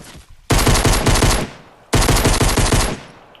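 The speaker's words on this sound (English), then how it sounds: "you break it with say your AR and just start shooting them" Assault rifle fire in a building shooter video game: two loud sustained bursts of rapid automatic shots, the first about a second long and the second lasting to the end after a brief pause, with no talking.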